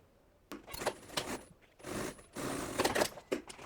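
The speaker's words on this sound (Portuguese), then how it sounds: "E simbora lá passar uma costura aqui." A sewing machine stitching through crystal-clear plastic vinyl for a zippered box pouch, running in several short mechanical bursts with brief pauses between them, close by, no voices.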